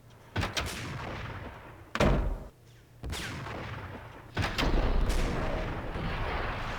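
Heavy gunfire in the Max Payne PC game, with several loud, booming sniper-style shots spaced a second or two apart, each followed by a rumbling tail over a low background drone.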